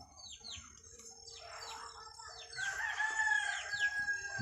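A rooster crows nearby over several seconds, a strained rising call mixed with softer clucks and chirps from other birds in the background.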